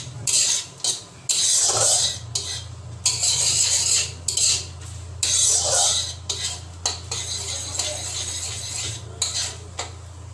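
Spices for paneer butter masala being stirred in a pan over a low flame, a utensil scraping and clinking against metal in repeated bursts with short pauses, over a steady low hum.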